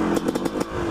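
A recently started dirt bike engine runs close and loud in a short burst, with rapid uneven pulses and mechanical clatter.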